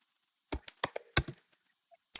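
Sudo command being typed on a computer keyboard: a short run of sharp, close key clicks in uneven bursts, then a pause and one final tap, with no talking.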